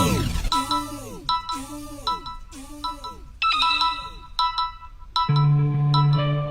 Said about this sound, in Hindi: कौन फोन कर रहा है इस वक्त?